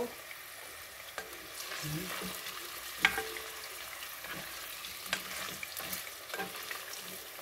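Fish puchero simmering as tomato sauce and baked beans are stirred in, giving a soft low sizzle with scattered spoon scrapes and a few sharper knocks against the pot, steady and close with no talking.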